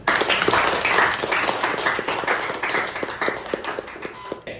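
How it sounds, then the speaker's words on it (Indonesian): Students in a teaching-practice classroom clap their hands together, a dense, steady burst of claps close by that holds for several seconds before thinning out at the end. "kita berikan tepuk tangan"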